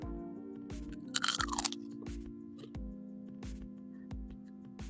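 A deep-fried mozzarella stick bitten and chewed up close, giving a short burst of crisp crunching, then quieter chewing over a steady, even ticking in the background.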